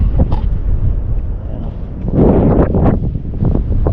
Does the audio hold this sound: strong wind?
yes